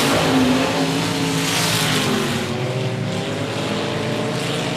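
Race cars roar around a quarter-mile dirt oval during a heat race, a loud continuous engine drone with shifting pitch as the pack passes, no voices.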